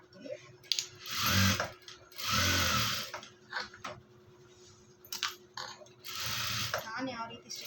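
A sewing machine stitches a lining onto cloth in three short whirring bursts separated by pauses, with a voice speaking in between and faint mechanical clicks.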